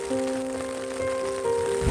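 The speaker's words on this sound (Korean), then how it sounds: "오늘도 이렇게 빗소리를 듣고 있어요." Rain falling on a tent at a mountain backpacking campsite, a soft steady patter heard from inside the tent, with faint tonal hum and a low thump near the end, no talking.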